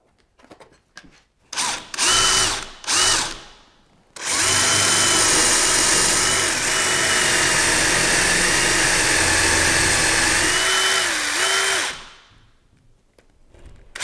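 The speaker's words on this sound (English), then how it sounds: "when you drill these, be very careful, make sure your drill bit is staying vertical and you're going straight through the door" A power drill bores through a barn door during track installation: a few short trigger bursts, then a long, loud, steady whine of about eight seconds that winds down to quiet.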